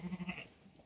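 Goats bleat in a short run of four or five quick, nasal calls close by, followed by quieter farmyard background with no talking.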